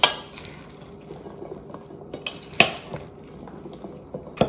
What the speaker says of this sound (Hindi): बिल्कुल अच्छी तरह से मिक्स होना चाहिए आपका